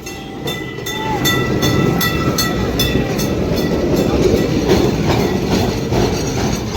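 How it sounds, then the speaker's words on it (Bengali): A Kolkata heritage tram runs along a city street: a steady rolling rumble with rhythmic clicks and a faint squeal over busy street noise. "এই হলো কলকাতার ঐতিহ্য ট্রাম।"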